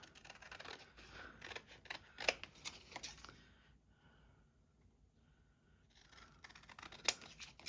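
Scissors snipping through washi tape tickets at close range, a run of crisp cuts, then a quiet pause before a few more snips, with no talking.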